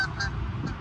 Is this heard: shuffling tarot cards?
no